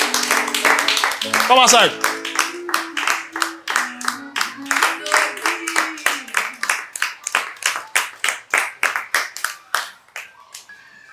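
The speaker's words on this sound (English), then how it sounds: "I know you are wondering why people are clapping for him." A group of people claps for a student in a classroom, steady rapid clapping running throughout, with a voice speaking briefly over the start.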